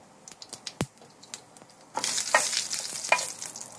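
Curry leaves drop into hot oil with popping mustard seeds while making a Kerala mango shrimp curry; scattered crackles and pops suddenly swell into a loud, continuous sizzle with sharp spatters.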